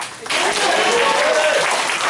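Applause from a crowd at a fan club launch for a singer, a dense steady wash of clapping that swells after a quieter start and carries on throughout, with a voice faintly audible under it.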